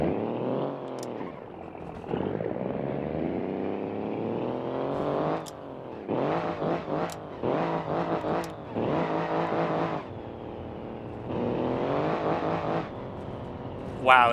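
Pickup truck engine in BeamNG.Drive with its mufflers hanging off, revving in repeated bursts that rise and fall, loud and close, with short pauses between revs.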